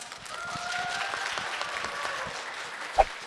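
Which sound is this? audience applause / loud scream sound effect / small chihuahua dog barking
audience applause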